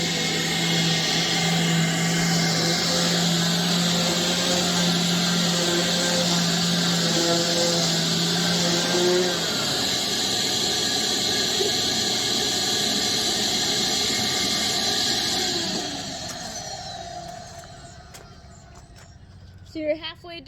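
Power sander scuffing a boat's hull surface before launch, a loud steady whine for about fifteen seconds that then winds down and stops, leaving quiet background with a few knocks.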